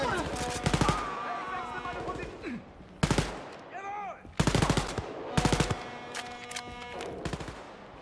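Heavy-recoil gun firing in the shooter game Wolfenstein: Youngblood: loud, close bursts of rapid shots separated by brief gaps, with game sound effects between the volleys.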